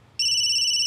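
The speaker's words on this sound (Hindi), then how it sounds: "अनीश का वीडियो कॉल अचानक?" A phone starts ringing with an incoming video call, a sudden loud, steady high electronic ringtone tone cutting in after a brief quiet moment.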